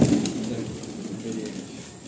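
Big Chini Kaldom pigeons in a loft in Kolkata, a low soft coo that fades out over a couple of seconds, close, with some faint background noise.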